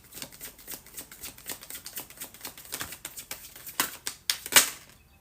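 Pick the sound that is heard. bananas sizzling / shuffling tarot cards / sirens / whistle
shuffling tarot cards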